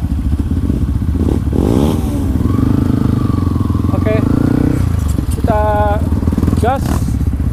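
Dirt bikes, a Yamaha WR 155 and a Honda CRF 150, rev and roar loudly up close at an off-road gathering, the engine pitch rising and falling with clattering and thumps, and people talking over the noise.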